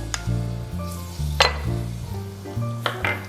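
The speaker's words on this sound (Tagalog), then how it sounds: "Igigisa ko yung aking bawang" Garlic sautés in oil for palabok with a soft sizzle under a steady low hum, punctuated by a few sharp clinks of utensils against the pan.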